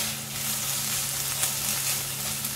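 Korean beef BBQ sizzles steadily on a hot pan, a dense continuous hiss with a low hum beneath, close and fairly loud with no talking.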